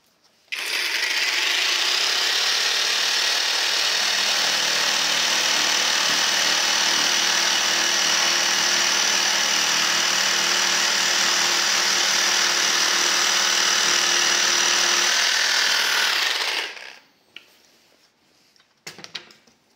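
A Parkside cordless jigsaw with a rough wood blade, running without oscillation at speed 4, saws through particle board in one loud, steady, buzzing cut lasting about fifteen seconds before winding down, followed by a few faint knocks.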